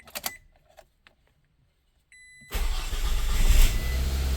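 An inexpensive manual-transmission car cranks and fires up after a few faint clicks and a brief electrical whine, then settles into a loud, steady idle close by.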